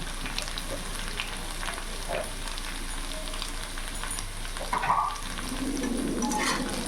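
Okra and potatoes being stirred in a hot pan with salt, turmeric and Kashmiri chilli powder, giving a steady close sizzle and frying hiss with soft scraping of the spoon, a brief louder clink near the end.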